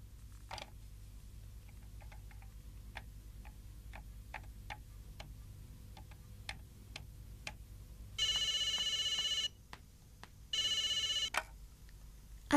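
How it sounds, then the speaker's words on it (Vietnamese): A telephone rings after a call is placed, with two long electronic ring bursts separated by a pause, preceded by faint ticking clicks in a quiet room. "Bây giờ khai trương điện thoại bằng cách gọi cho Út trước nghe."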